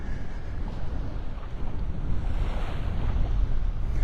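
Ocean waves washing onto the beach at Delnor-Wiggins in North Naples, Florida, a steady broad rush of surf with heavy low wind buffeting on the microphone throughout.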